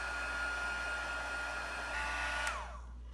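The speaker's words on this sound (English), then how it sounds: "So then you could just take your heating tool and just dry that." A heat tool blows steadily to dry a wet paper coil for a fall pumpkin spice treat box, giving a continuous close whooshing hum that cuts off near the end.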